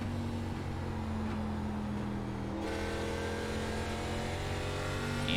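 A simulated race car in an iRacing ARCA Series race at Richmond Raceway, its engine droning steadily and rising in pitch as the throttle opens on corner exit, loud and continuous without talk.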